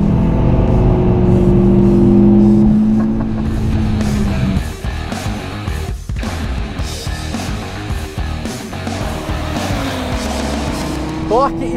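Audi TT RS engine roaring as it accelerates at full power, a loud, sustained engine note that swells and climbs through the gears, with the pitch dropping at shifts and rising again toward the end.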